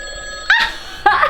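A phone's ringtone plays through a small Bluetooth speaker in a bedroom, two short rising chirpy bursts about half a second apart, close and fairly loud with no talking.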